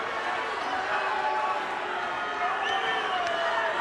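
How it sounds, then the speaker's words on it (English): Crowd murmur and scattered shouts fill an arena during a Tank Abbott versus Scott Ferrozo fight, a steady dense roar with voices rising now and then. "Crowd getting a little bit restless"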